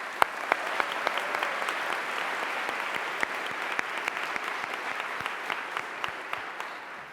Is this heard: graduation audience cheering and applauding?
yes